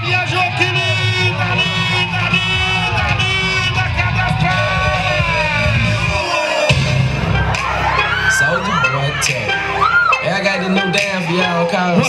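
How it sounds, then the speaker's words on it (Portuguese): A rodeo crowd cheers, yells and whoops loudly and continuously over an arena announcer's amplified voice, with bursts of applause and shouting rising near the end. "Uma salva de palmas"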